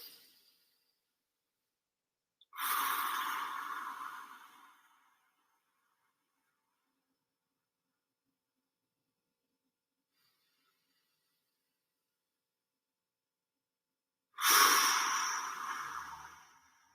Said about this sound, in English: go ahead and keep on breathing for me